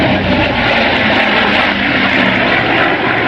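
Grumman F7F Tigercat twin-engine propeller aircraft: a loud, continuous piston-engine drone with a throbbing propeller beat, steady for the whole stretch and without speech.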